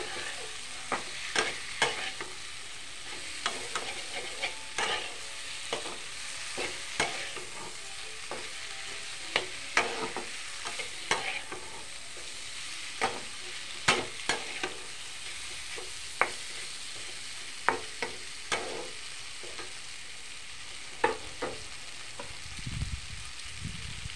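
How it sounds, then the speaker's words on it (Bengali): Taro stolons cook with spices in a frying pan, with a soft continuous sizzle and frequent sharp clicks and scrapes from stirring, close by and fairly quiet with no talking. "নাড়াচাড়া করে লতিগুলি দিয়ে দেব। মশলার সাথে একসাথে মিশিয়ে নেব।"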